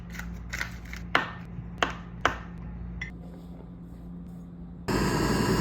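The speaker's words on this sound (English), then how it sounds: "We're gonna start by chopping up our butter into about 1/2 inch slices" A knife chops butter into half-inch slices on a kitchen cutting board, making several sharp, close taps spaced about half a second apart that fade to quiet before a broad hiss rises at the end.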